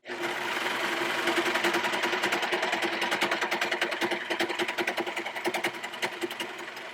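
A Brother 3534DT serger sewing machine runs steadily at close range, a loud, fast mechanical whir with rapid rhythmic stitching pulses that ease slightly near the end.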